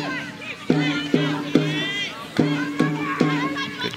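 Crowd noise at a women's soccer match between FC Kansas City and Chicago Red Stars, roughly 2,000 spectators, with a steady murmur broken by repeated sharp bursts of shouting and cheering through the evening.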